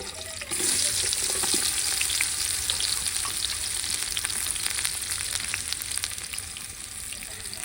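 Onions and fennel seeds sizzle loudly as they hit hot oil in a pan while biryani is being cooked, starting with a sharp burst and settling into a continuous close frying hiss.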